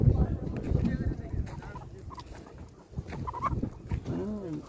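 Retired farm laying hens cluck and murmur nearby amid background bustle and voices, with a few sharper squawks toward the end.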